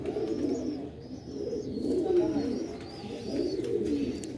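Sialkoti pigeons, the pearl-eyed show breed, cooing in a loft; soft, low, rolling coos repeat in overlapping waves, steady and fairly close, with faint higher chirps above and no talking.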